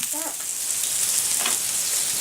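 Mussels sizzle in a hot pan, a steady bright hiss of frying that runs alone and close throughout.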